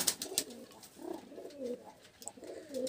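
Pigeons coo softly in a series of rolling, throaty phrases that rise and fall over about three seconds. The sound is fairly quiet and close, with no voices.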